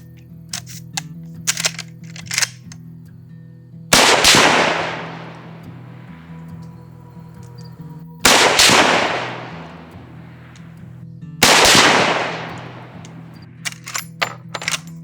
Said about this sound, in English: fire off some shots downrange and see how well this 30-30 shoots